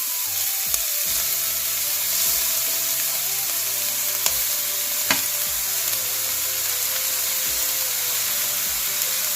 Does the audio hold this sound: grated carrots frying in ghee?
yes